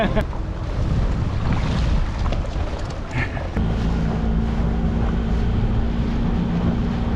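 A boat engine runs at speed across open water, with steady wind buffeting the microphone and waves rushing past; a constant low drone settles in after a brief shift midway, close and loud.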